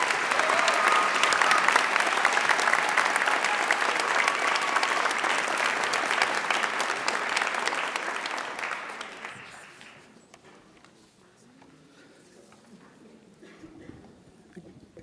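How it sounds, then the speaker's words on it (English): Sustained applause from a college awards convocation audience honoring student leaders, loud and dense for about nine seconds before fading into quiet room noise with faint stirring. "Would you please join me for a round of applause for all these student leaders?"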